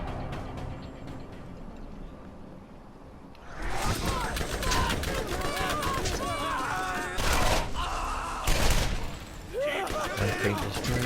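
Gunfire in the video game Borderlands shooting up a crate, bursts of rapid shots breaking in after a quiet start, loud and sustained with sharper blasts near the middle and end.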